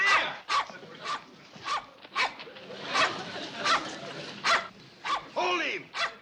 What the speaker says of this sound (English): Get that buffalo dog away from him!